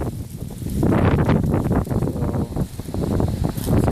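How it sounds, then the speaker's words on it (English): Strong wind buffeting a microphone in loud, rumbling gusts that rise and fall, with no voices heard. "Very windy today."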